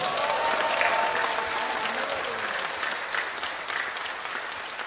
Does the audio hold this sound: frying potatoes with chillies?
no